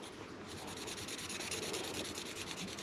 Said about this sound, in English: just put a nice coating of marker on there just so we can see exactly what that surface is